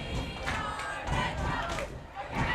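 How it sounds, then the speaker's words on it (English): Home crowd at a Rancho Alamitos high school varsity football game against Santiago cheers and shouts in a sustained, loud roar of many voices, with swelling yells rising above the din throughout. "Rancho crowd getting fired up, and you'll hear them throughout the night getting loud"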